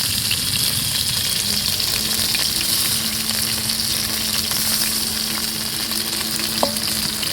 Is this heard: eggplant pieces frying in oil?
yes